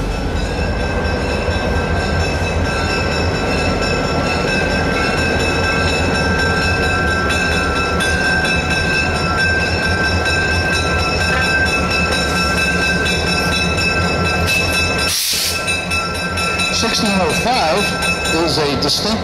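An Illinois Terminal 1605 interurban electric locomotive rumbles steadily close by at a railway museum with a continuous mechanical roar and faint rail squeals, and a loud burst near the end; a voice talks throughout.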